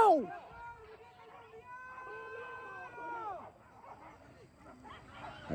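A dog somewhere below yelps and whimpers in drawn-out, wavering cries, faint and distant, while people nearby talk over it.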